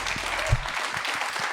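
Applause from a church congregation at a Spanish-language service, a brief burst of clapping from a crowd with a thump near the start, fairly close and moderately loud.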